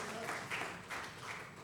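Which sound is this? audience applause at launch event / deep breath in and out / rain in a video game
audience applause at launch event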